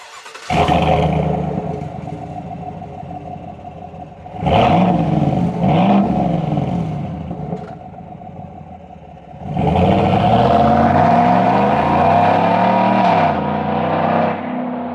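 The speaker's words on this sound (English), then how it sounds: "deleted the muffler right here in the garage, and this thing sounds glorious" Deep, loud exhaust rumble from a 2019-2024 Chevrolet Silverado Trail Boss pickup with the muffler deleted, close by, revving up in several surges and settling back to a throaty idle between them.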